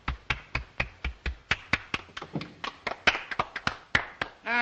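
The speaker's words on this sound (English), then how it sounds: "Applaud." Hands clapping in a 1932 film scene, a steady run of sharp, distinct claps from a small group, close and crisp, with no speech over them.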